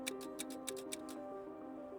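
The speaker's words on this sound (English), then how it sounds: "If you put on the, the flashlights, you can hear the relay working." The turn signal relay on a Honda Africa Twin motorcycle clicks in a quick, light, regular series of ticks, faint over a steady engine hum.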